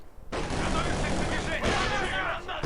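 A grenade blast and bursts of gunfire in the World War II strategy game Company of Heroes 2, loud and dense, with a sharp cut midway and someone talking over the combat.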